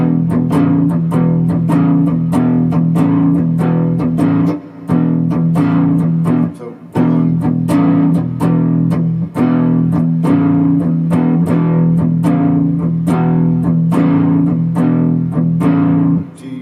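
A distorted electric guitar plays a repeating blues riff, loud and close, with strummed chords and brief pauses between phrases.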